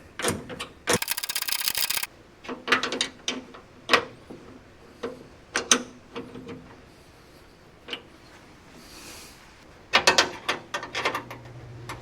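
Ratchet wrench clicks in short bursts while bolts are tightened on a 1931 Ford Model A cowl, close and fairly quiet, with irregular pauses between runs of metallic ticks.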